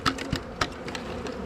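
Honeybees buzz at a hive feeder, with several close, loud buzzing passes over a steady hum from the colony.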